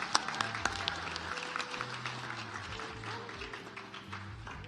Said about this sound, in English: Please join me in giving a round of applause to the Asian and Pacific Islander class of 2023 graduating bachelors.